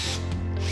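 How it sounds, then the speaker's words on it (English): Bosch power drill boring through tiles covered with tape, a short close burst of whirring, rattling motor noise with no talk. "A bit of tape on the tiles stops them cracking as you drill"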